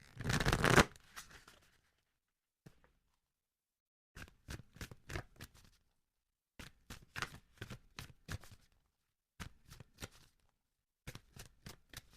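Oracle cards shuffled by hand, a burst of riffling at the start, then bursts of crisp rapid card slaps and flicks separated by silent gaps, close and fairly quiet.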